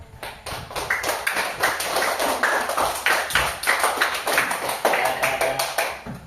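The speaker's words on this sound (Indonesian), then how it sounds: "Beri tepuk tangan yang meriah" Classroom applause from students after a group activity: a sustained burst of many hands clapping together, fairly close and steady for several seconds with a few louder taps mixed in.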